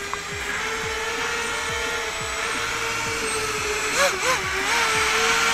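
Eachine Tyro 99 quadcopter drone motors whine steadily up close, pitch rising and dipping briefly as the throttle changes, under a repeating low chirping pattern.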